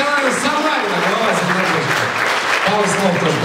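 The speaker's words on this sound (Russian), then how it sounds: "Ваши аплодисменты, Ирина Николаевна Самарина, глава" Audience applause at an award ceremony, a dense, loud, continuous clapping from a hall crowd that fills the whole moment, with a voice faintly audible beneath it.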